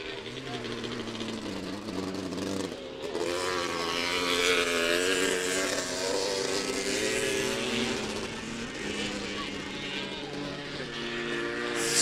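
A big Kawasaki racing motorbike roars along a beach race course, its engine note rising and falling through gear changes in a loud, sustained drone. Other race bikes mix in, and a commentator talks over the noise.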